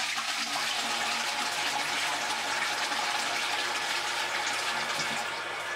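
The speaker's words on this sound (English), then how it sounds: "for a longer flush, you can keep your hand over the center." A touch-free sensor toilet from a Jollytronic installation doing a long flush: a sustained, loud rush of gushing water that runs steadily for several seconds and tapers slightly at the end.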